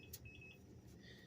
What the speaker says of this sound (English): And sorry about the beeping.